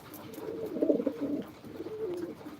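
Baku pigeons cooing near their nest, a soft, low, throaty coo repeated in short phrases, close and clear against a quiet background.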